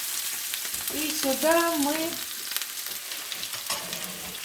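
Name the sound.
fish frying in a pan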